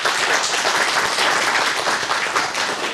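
Studio audience at a talk show applauding, a dense, loud, even wash of many hands clapping throughout, with no voices over it.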